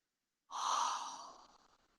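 A single deep exhale of breath, close and soft, swelling quickly then trailing away over about a second and a half with nothing else around it.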